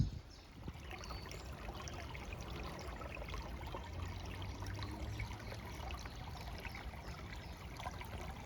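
Water of a small woodland brook trickling and babbling steadily, with a continuous close gurgle and no voices.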